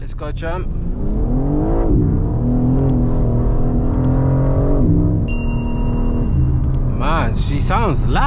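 A BMW G82 M4 engine pulls hard while driving, loud revs climbing and dropping through several gear changes, heard from inside the cabin with a voice talking over it.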